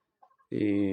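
A rooster gives a short, close, throaty cluck right after a few faint soft sounds, loud against an otherwise quiet background.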